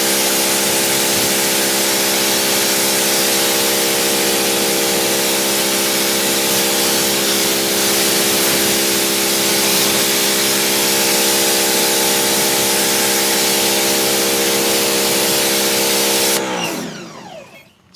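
A water spray rinses a car engine bay, a loud continuous hiss holding steady with a constant tonal hum beneath before cutting off abruptly near the end.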